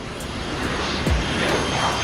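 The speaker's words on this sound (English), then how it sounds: "The colossal B-52 takes off on a mission over enemy land." A B-52 bomber roars steadily on takeoff, a loud broadband engine rush that swells slightly near the middle of the clip.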